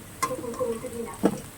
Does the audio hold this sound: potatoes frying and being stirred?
yes